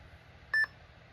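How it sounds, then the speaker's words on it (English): Two short electronic beeps in quick succession from the internal PC speaker of an IBM ThinkPad T23 laptop, clear and tonal against a quiet background hum. "it was a beep coming from the PC speaker"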